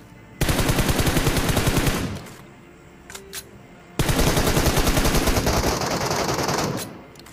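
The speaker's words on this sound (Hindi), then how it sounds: "जब भी देखते वहाँ पे फायरिंग हो रही है अंदर पीछे की साइड" Rapid automatic gunfire in the mobile battle royale game BGMI, two long sustained bursts separated by a brief lull with a couple of faint clicks, loud and close.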